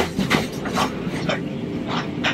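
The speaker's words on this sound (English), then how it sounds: "Yarra Trams hopes you're enjoying your ride on the City Circle tram" A Yarra Trams City Circle tram on Route 35 rolls through Melbourne, giving a steady rumble inside the car with a few sharp rail clicks and knocks, fairly loud and continuous, with no talk.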